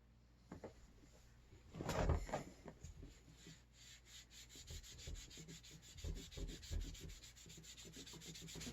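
Beeswax polish rubbed onto a DIY wooden bicycle fender, soft close friction strokes in an irregular rhythm with one louder scuff near the start, faint and without speech.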